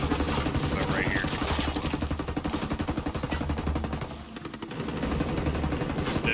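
Sustained machine gun fire in Ghost Recon Breakpoint, a rapid, steady rattle of shots running almost continuously and loud, dipping briefly before resuming.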